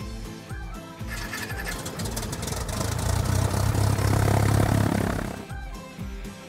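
An aircraft engine in a flight simulator cranks and settles into a loud, steady idle, the drone swelling in the middle and then easing back while rhythmic mechanical clatter continues.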